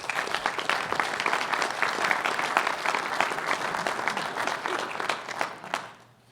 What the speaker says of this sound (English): I knew that would get an applause